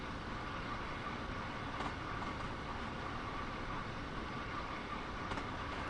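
A train rumbles steadily along the rails in a railway simulator game, a continuous, even running noise near the listener with no speech.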